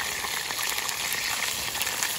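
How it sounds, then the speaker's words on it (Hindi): Marinated pieces frying in a small kadhai at a beachside camp, a soft, steady hiss of oil bubbling, faint and even with no one speaking. "वो कढ़ाई बहुत छोटा है तो इसीलिए हम लोग तीन तीन करके जितना उतर चाहिए उतना उतना करके फ्राई कर रहे हैं"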